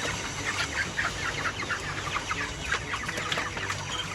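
Chickens cluck in quick, repeated bursts, several birds calling close by over a low background hum, with no talking, as they are gathered for slaughter.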